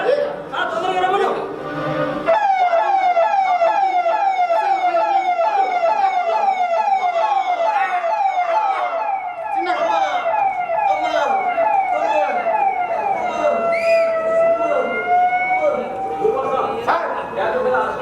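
An emergency siren wails loudly and steadily through most of a stage play about safety, rising and falling in a repeating cycle, with a dog barking and voices talking around it.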